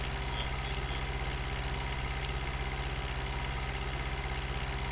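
Tractor engine in the farming game Farming Simulator 2013, a steady low rhythmic idle-like thrum that continues evenly throughout, with no talk over it.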